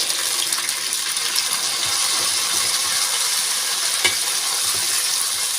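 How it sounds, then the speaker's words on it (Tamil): Finely ground onion paste sautéing in a pan for a Kola fish curry, giving a steady, close sizzle with soft stirring scrapes throughout and no voices. "ரெண்டு பெரிய வெங்காயம் நல்லா ஃபைன் பேஸ்ட்டாக அரைச்சி எடுத்துருக்கேன் இதையும் சேர்த்துக்கலாம்"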